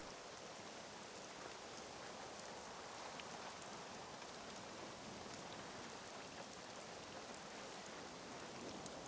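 Heavy rainstorm in the video game SCUM, a dense, constant hiss of pouring rain that holds steady and unbroken throughout, with no voices.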